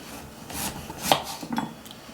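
A knife slices through raw sweet potatoes into quarter-inch rounds for pressure canning, giving a few short rasping cuts close by with brief pauses between strokes.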